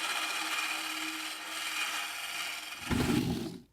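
Variable-speed power machine cutting a wooden tenon on a chair leg in a woodshop, a steady whirring cut that swells slightly, then a deeper burst near the end before spinning down to silence.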